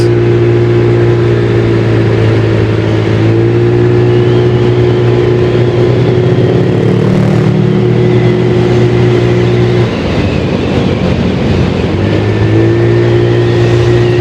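A motorbike engine revs and accelerates away from a traffic light in busy city traffic, loud and close, its pitch rising in steps with a brief dip midway before climbing again.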